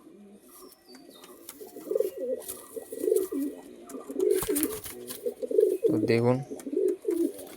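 Kalshira pigeons in a loft in Tehatta, Nadia, give repeated throaty coos in a steady rhythm, close by, with someone speaking briefly between the calls.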